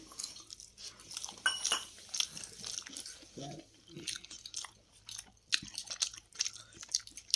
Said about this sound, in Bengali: ডিম দিয়ে ডিমের ঝোল দিয়ে এবার খেয়ে দেখি কেমন লাগে।